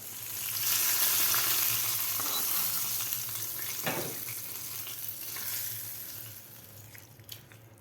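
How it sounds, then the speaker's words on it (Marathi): Hot tadka with curry leaves poured into a mixed vegetable koshimbir sizzles steadily and close, a bright crackling hiss that swells early and slowly fades, with no talking. "आपल्याला कोशिंबीरमध्ये हे तडका घालून घ्यायचा आहे"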